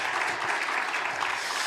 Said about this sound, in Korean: 우리 선교사님께 귀한 큰 박수 한번 드립시다.